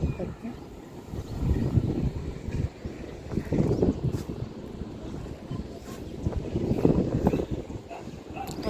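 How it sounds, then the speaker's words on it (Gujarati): Strong wind blows outdoors near the salty shoreline at Madhavpur, buffeting the microphone in uneven gusts, with faint voices now and then. "વાતાવરણ બસ પવન બહુ જ આવે આમ"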